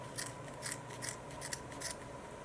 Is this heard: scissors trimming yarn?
yes